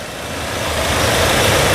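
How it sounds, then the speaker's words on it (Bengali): A used car idles with its bonnet open, its engine compartment exposed at close range, giving a loud, steady, smooth rumble that holds even throughout with no voices. "এগুলো ইঞ্জিন রুমটা দেখেন, গাড়িটা স্টার্টে আছে"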